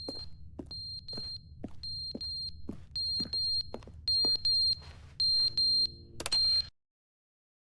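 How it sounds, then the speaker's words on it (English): A button in the video game The Stanley Parable beeps again and again in a steady rhythm of sharp electronic tones, then turns to longer, louder sustained beeps before cutting off into silence. "Beeping is from the button."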